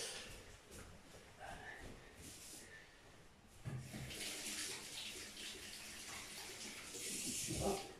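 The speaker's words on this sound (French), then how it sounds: "Je vais juste me rincer les mains." Hands are rinsed under a running kitchen tap, a soft steady rush of water that swells louder partway through and carries on until the end.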